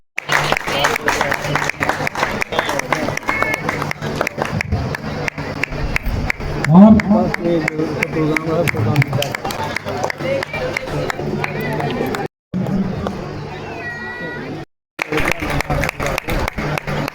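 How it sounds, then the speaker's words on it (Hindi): Large audience applauding at an award ceremony for coaching centre students, a loud continuous round of clapping that runs almost the whole time with crowd noise mixed in, briefly cutting out near the end. "जोरदार तालियां।"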